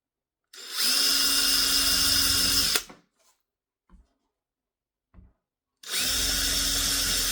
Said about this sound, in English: on a distance on probably 4 inches, I need to drill a hole.